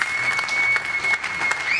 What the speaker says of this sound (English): Once again, with a big round of applause